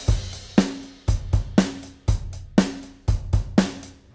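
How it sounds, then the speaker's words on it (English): Dry ballroom-style swing drum kit from a Superior Drummer 3 preset, a steady pattern of kick and snare hits at a moderate tempo with tight, short decay, close and clear with no other sounds. "I'm using Al Schmidt's Ballroom Swing Dry preset from his Decades expansion pack"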